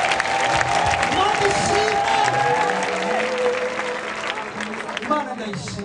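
Church congregation applauding in thanks to God during a choir service, a steady, loud clapping crowd sustained throughout, with someone speaking and singing over it.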